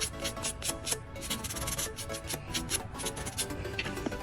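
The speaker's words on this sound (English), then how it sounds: "There's still a bit of white here, which we can actually easily remove but by sanding it off" Steady, rapid rubbing strokes of sanding on a small plastic Gunpla model part, close up and rhythmic, continuing without pause and with no talking.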